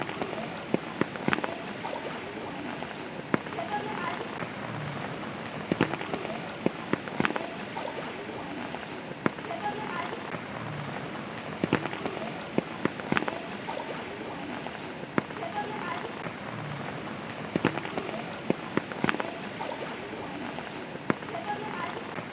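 Heavy monsoon rain pours down in Virar, a dense continuous hiss of falling water with scattered sharper drops and splashes, steady throughout.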